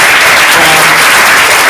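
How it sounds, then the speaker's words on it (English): Dense, loud applause from a comedy club audience at a stand-up showcase, a continuous wash of clapping filling the space without pause. "You've been a wonderful crowd, and have a hand for Jay and Johanna"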